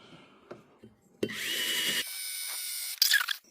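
A power drill bores into a steel railway rail, its bit cooled with liquid now and then: a few light taps, then a loud, steady grinding whine that shifts pitch midway and ends in a brief rough burst.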